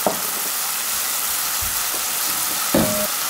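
Soy-seasoned sauce for a dried squid side dish bubbles and sizzles steadily in a small baby wok, a continuous close frying hiss with a few soft clinks of a utensil.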